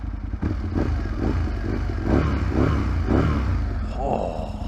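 An Aprilia RSV 1000 sports bike engine at 20,330 miles revs in repeated rhythmic surges, loud and close with a clattery mechanical edge, over a steady low rumble.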